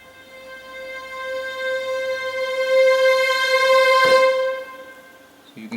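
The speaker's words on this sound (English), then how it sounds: "So for example, this is violins here. Let's load a sustain patch quickly," A sampled violin section from Vienna Symphonic Library plays a sustain patch, holding a steady, clear harmonic tone that swells gradually in loudness and then fades, with a brief soft bump near the end and no talking.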